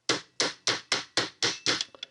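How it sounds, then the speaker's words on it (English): A hammer taps a part into place during the steering teardown of a 1966 Ford Mustang, giving seven evenly spaced metallic blows, close and crisp, followed by a few lighter quick taps. "just tap it with the hammer"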